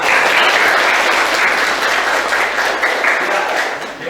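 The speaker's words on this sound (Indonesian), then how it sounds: "Kasih tepuk tangan dulu dong untuk Asih" A room full of people claps steadily for about four seconds, a dense, even applause that slowly tapers off.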